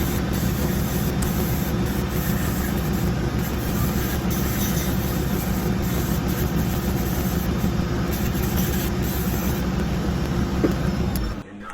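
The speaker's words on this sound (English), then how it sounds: "A wire wheel does the final cleanup on the burl." A spinning wire wheel cleaning up a Manitoba maple burl gives a loud, continuous rough whirring and rasping that holds steady for over eleven seconds, then cuts off abruptly.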